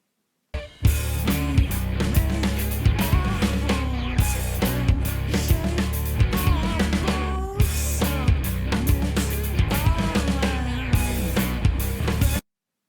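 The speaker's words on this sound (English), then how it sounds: "So what we've got there is the Subdecay Noise Box," Full band mix with a Subdecay Noise Box fuzz pedal adding textured embellishments over dense drums and guitars, loud and continuous for about twelve seconds with a brief dip midway, no voices.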